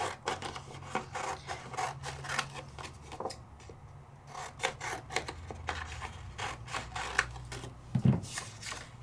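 An A4 sheet of paper being cut, a repeated rasping, scraping rhythm of blade strokes close by, fairly steady with a short pause midway and no talking.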